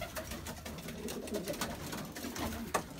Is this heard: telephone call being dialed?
no